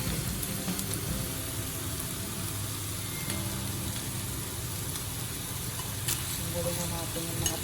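Onions frying in rendered pork fat for a Filipino nilagang baboy, a steady soft sizzle with occasional stirring clicks, fairly quiet and continuous throughout.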